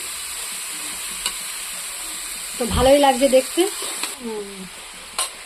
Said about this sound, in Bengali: সব সবজিগুলো কড়াই দিয়ে দিয়েছে, দিয়ে নাড়াচাড়া করছে